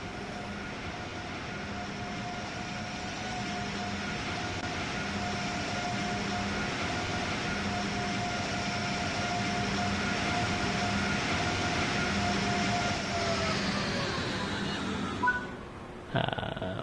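Loud, steady rumble of F40PH diesel locomotives in Train Sim World 3, with a sustained engine drone and a faint tone, continuing for many seconds before cutting off near the end.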